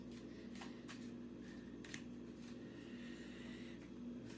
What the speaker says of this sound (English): I feel one more shuffle is definitely sufficient